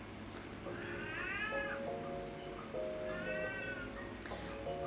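A pet cat meows twice, the calls rising and falling with a slightly whiny pitch, close by over steady room noise during a live chat stream.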